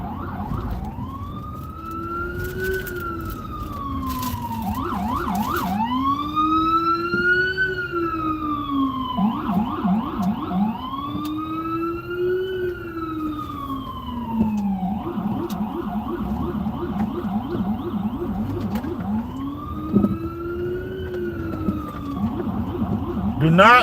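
An ambulance siren wails nearby while driving, cycling through long rising and falling tones alternating with rapid yelping bursts, loud and continuous over road noise.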